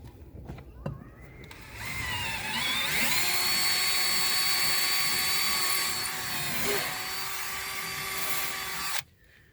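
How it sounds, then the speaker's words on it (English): A power drill fitted with an 11/64 bit bores through aluminum while mounting a diving board. After a few knocks, the whine spins up and holds a loud, steady pitch for about seven seconds, dips briefly, then cuts off abruptly. "Now I'm going to switch it over to an 11/64 bit, being that I know I went through aluminum."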